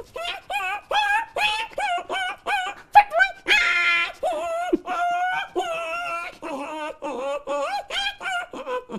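A voice imitates a suffering puppy: a rapid run of high, tonal whimpers and yelps, about a dozen short cries in close succession, loud and near, alone without talk.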